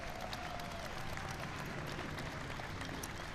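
Audience applause at a 20th anniversary celebration of the Americans with Disabilities Act, a dense, steady wash of clapping with crowd noise that holds evenly from start to finish.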